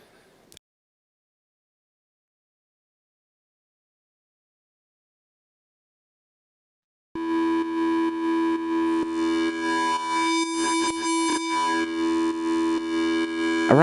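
A high-pitched laser bass synth patch built in Ableton Operator enters after a long silence, a bright buzzy tone with a stack of sharp harmonics that pulses in a steady repeating rhythm.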